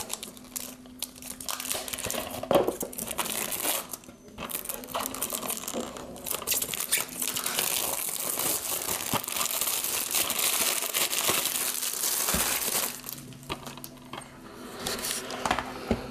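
Packaging for a Tomb Raider Survival Edition PC box crinkles, tears and rustles almost nonstop for about sixteen seconds, with small clicking and rattling handling noises mixed in, close by and fairly loud.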